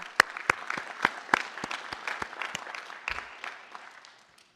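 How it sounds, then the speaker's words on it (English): An audience at a commencement ceremony applauds the faculty, sharp scattered claps at first that spread into a faint, distant round of applause and fade out. "please join me in a round of applause for their efforts"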